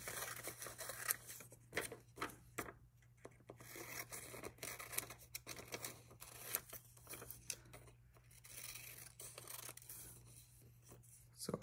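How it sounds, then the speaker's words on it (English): Scissors cutting a paper page for a collage, close and quiet with repeated short snips, rustles and scratchy rubbing in an irregular rhythm, no talking. "So I'm just going to cut out the red flowers right on top of the vase here."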